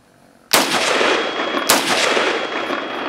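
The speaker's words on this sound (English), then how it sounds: "he's going to go ahead and shoot our target downrange a couple times" Two loud rifle shots fired at a downrange target from a standing position by a shooter in body armor, each a sharp crack with a ringing tail, about a second apart.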